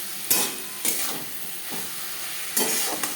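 Spices with onion and tomato sizzle steadily in fish oil for a Bhola bhetki fish curry. A loud, close frying hiss carries throughout, with a few sharper bursts as the pan is stirred.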